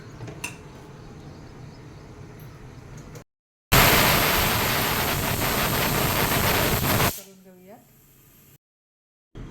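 A pressure cooker cooking brinjal rice lets out a loud, rushing release of steam lasting about three seconds, between quieter stretches of kitchen background noise, with a brief voice afterward.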